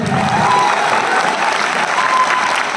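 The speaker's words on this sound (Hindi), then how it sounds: "SLPS के लिए तो ताली बजा ही सकते हैं सब।" An audience claps steadily throughout, a dense wash of applause with faint crowd voices mixed in.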